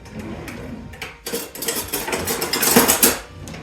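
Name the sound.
whisking sugar and eggs in a bowl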